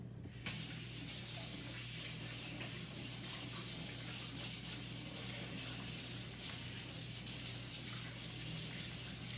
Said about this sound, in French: Là, je vais aller laver mes mains